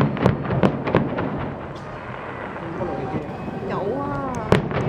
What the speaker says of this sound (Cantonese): 哇，有煙花睇啊，原來。